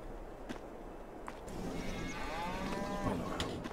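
Cows moo in a low, drawn-out call from a cow barn in Farming Simulator 22, with a few faint clicks and steps in the background.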